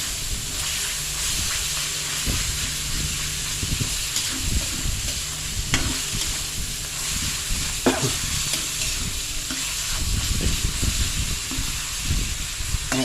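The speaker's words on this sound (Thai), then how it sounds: "คั่วพริกคั่วหมูมันเข้ากันมันหอ" Chili and pork stir-fry in a hot pan, an intense nearby sizzle and hiss running nonstop, punctuated by frequent scraping and clattering stirs; no voices.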